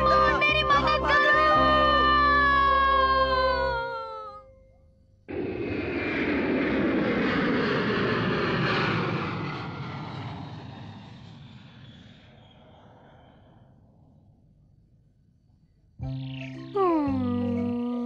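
A cartoon toy feather plane flies past with a loud, steady engine drone lasting about ten seconds and slowly fading, with bright cartoon tones before and after it.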